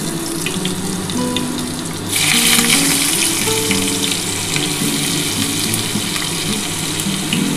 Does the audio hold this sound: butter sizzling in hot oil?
yes